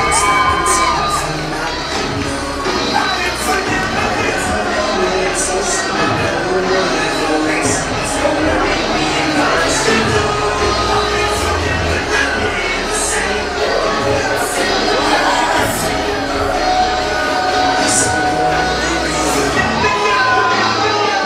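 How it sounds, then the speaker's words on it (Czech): A school audience at a graduation sash ceremony bursting into loud, sustained applause mixed with cheering and shouting students, filling the hall continuously. "Dámy a pánové, obrovský potlesk pro Markétu Vašíčkovou!"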